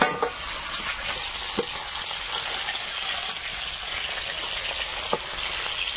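Fish frying in hot oil gives a continuous bright sizzle, close and fairly loud, broken by a few sharp spatters or utensil taps, with no talking.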